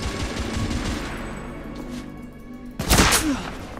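Gunfire in The Order: 1886, a video game: dense bursts of shots and impacts throughout, with a loud close burst near the end.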